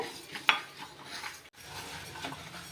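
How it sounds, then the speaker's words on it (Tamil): Moong dal roasting in a pan over a low flame, a quiet scraping and stirring with one sharp clink from the utensil near the start. "லோ ஃப்ளேமில் வச்சு மூணு நிமிஷம் நல்லா பொறு பொறுன்னு வறுத்து எடுத்துக்கோங்க"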